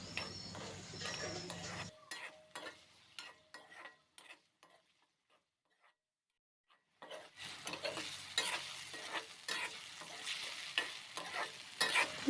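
Paneer fries in a hot pan until golden, with a steady crackling sizzle and the scrape of stirring. The sound drops to near silence for several seconds mid-way, then the frying and stirring resume loudly.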